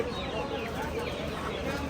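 A naked-neck chicken clucks at a California farm animal auction, its calls faint and mixed into a steady, noisy crowd and barnyard din.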